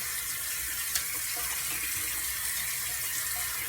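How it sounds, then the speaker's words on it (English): Tap water running steadily into a bathroom sink for a rinse after shaving, a continuous close hiss with one small splash near the start and no talking. "Now I switch back to a little colder water now"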